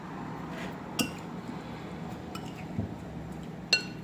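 Beef curry ingredients with thyme and dry basil being mixed together in a pot or bowl, soft faint stirring with a few sharp clinks of a utensil against the dish, no voices.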